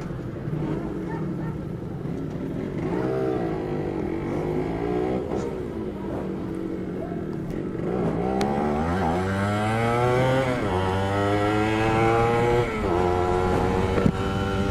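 A two-stroke Yamaha RD motorcycle engine revs up repeatedly nearby, rising and falling in pitch with growing loudness, its buzzing tone strong over a noisy background at a filling station.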